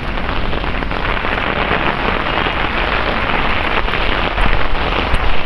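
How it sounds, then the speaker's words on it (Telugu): Heavy rain pours down steadily on flooded roads in Dubai and Sharjah, a dense, loud, unbroken hiss of water with a few stronger gusts near the end and no voices. "వర్షం చాలా ఘోరంగా వర్షం పడుతుంది"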